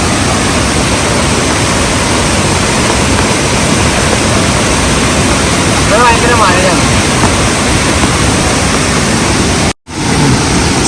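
Meenvallam waterfall in Palakkad pours down in a steady, dense roar of rushing water. The sound is close and continuous, with a brief sharp dropout near the end.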